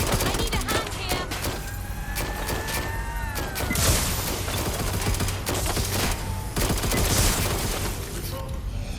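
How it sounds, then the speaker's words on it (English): Gunfire crackles through a firefight in the video game Watch Dogs: Legion, a steady spread of moderately distant shots and bursts mixed with game effects and music, with no speech over it. "I'm hearing gunfire."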